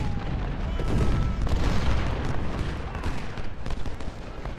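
Union 6-pounder cannons boom amid a Civil War battle at Chickamauga in Ultimate General: Civil War, a loud, rumbling wall of overlapping artillery and musket fire with no gaps.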